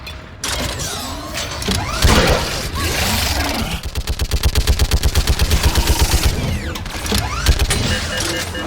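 Turret gun firing in a Mass Effect 3 battle: scattered heavy shots give way to a steady, rapid run of loud automatic bursts, then trail off into intermittent shots amid mechanical clatter.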